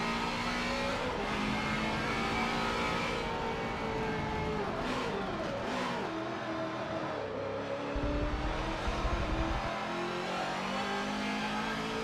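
Race car engine in Forza Motorsport 7 revs loud and close for the whole stretch, climbing and dropping in pitch through gear shifts and acceleration.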